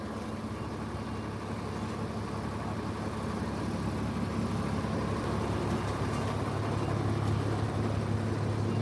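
A packed bus engine rumbles in a steady low drone with constant road and cabin noise, an even, continuous hum heard from inside without speech.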